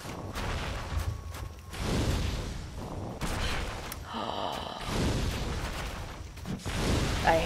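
In Dark Souls, an enemy breathes fire in roaring, whooshing bursts that flare and fade amid booming combat noise, fairly loud and close.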